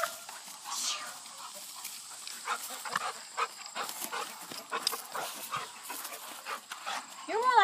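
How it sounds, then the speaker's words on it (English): A livestock guardian dog on an Appalachian homestead barn whimpers and gives soft yips and snorts close by, with people murmuring quietly over it. "You're more like a clown than a livestock guardian dog right now."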